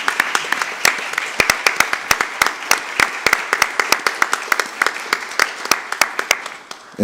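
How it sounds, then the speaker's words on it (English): A modest group at a city council meeting claps for Coach Easton, with distinct individual hand claps standing out in a loose, uneven rhythm that thins toward the end. "can we just have a round of applause for Coach Easton?"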